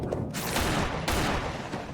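Rapid gunfire from rifles rings out at a charging bull, a dense fusillade of loud, overlapping shots with sharp cracks standing out, continuing without pause.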